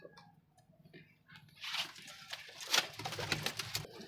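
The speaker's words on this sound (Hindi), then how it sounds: "लो जी दोस्तों, ये देखें गोल्डन कबूतर" Golden pigeons in a breeder's coop, soft low cooing and rustling that build into a louder flurry of movement near the end, heard close with no talk.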